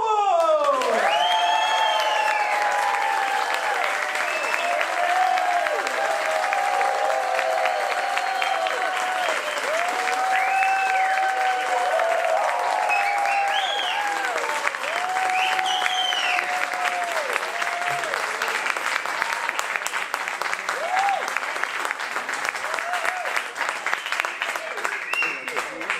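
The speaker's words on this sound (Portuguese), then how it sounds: "Muito obrigado pelas palmas" Sustained audience applause fills a comedy show venue as a comedian takes the stage, loud and continuous throughout with scattered cheers and voices over the clapping.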